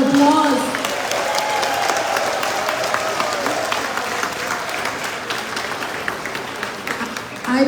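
An audience at the Jamaica Performing Arts Center in Queens, New York applauds the President of Guyana, sustained lively clapping with a few cheers throughout.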